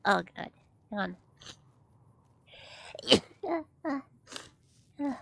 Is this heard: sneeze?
yes